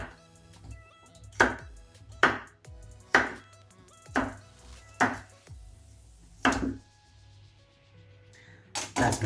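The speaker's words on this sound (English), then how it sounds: "make sure to chop them a little bit smaller" Knife chopping vegetables on a cutting board for Filipino puchero stew, about eight separate sharp chops spaced irregularly, close and fairly loud over a quiet kitchen hum.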